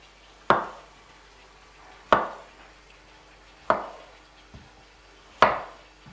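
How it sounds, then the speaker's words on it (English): A knife chopping banana into thick slices for fritters, four sharp, evenly spaced thuds on a cutting board, close and clear with no talk. "so now I'm going to cut it just like we did the banana chips,"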